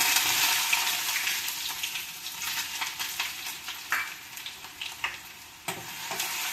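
Ginger hits hot oil that already holds popped mustard seeds for a lemon pickle, giving a loud, steady close-up sizzle with a few sharp crackles and spatters throughout and no voices.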